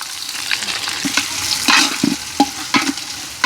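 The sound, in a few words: onions frying in hot oil for prawn biryani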